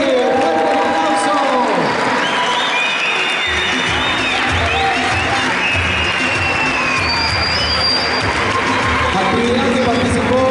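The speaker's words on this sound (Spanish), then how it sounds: "¡Fuerte el aplauso!" Applause and cheering from a crowd at a school children's football sports closing ceremony, sustained loud clapping with shouts and whoops rising over a continuous din throughout.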